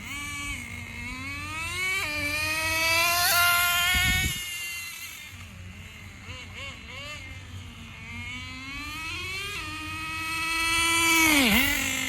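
A Traxxas 4Tec RC car with a Pro .15 nitro engine buzzes at high pitch, its revs rising and falling repeatedly as it runs, fairly close and continuous throughout.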